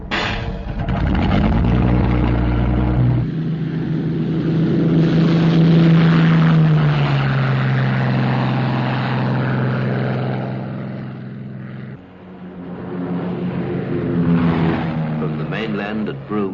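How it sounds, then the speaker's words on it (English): Royal Australian Air Force Lincoln bombers take off from the mainland at Broome, a loud, sustained propeller-engine roar with shifting drone, heard beneath continuous narration. "From the mainland at Broome, Lincoln bombers of the Royal Australian Air Force take off to reinforce the security patrol"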